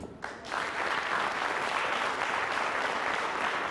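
Studio audience applause on a television talk show, a dense, sustained burst of clapping that starts abruptly and holds steady at close, loud level with no speech over it.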